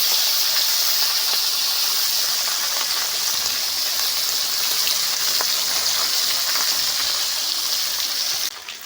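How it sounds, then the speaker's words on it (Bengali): Fish fries in hot oil, sizzling and hissing continuously, a close, bright crackling spatter that holds steady throughout before easing slightly at the very end. "এই মাছ ভাজার সময় প্রচুর তেল ছিটকানি গায়ে পড়ে সাবধানে ভাজতে হবে"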